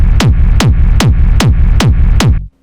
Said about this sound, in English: we still want to have this kind of deep sounding kick.